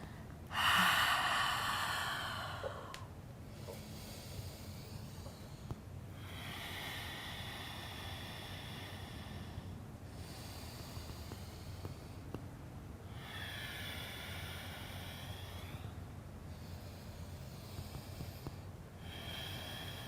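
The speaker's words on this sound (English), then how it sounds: "Nice intentional inhale through the nose and exhale through the nose." Slow, deliberate nasal breaths during yogic practice, with a sharp sniff-like inhale at the start followed by several long, hissing breath cycles, airy and close, under a steady background hum.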